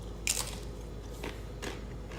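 Close, crisp bites and crunchy chewing of veggie bacon, a few separate crunches in a quiet room with no talking.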